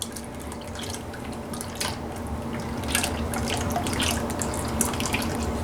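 An egg yolk mixture trickles steadily into vanilla and sugar heavy cream for creme brulee while being stirred, giving a close, continuous liquid pouring and splashing sound.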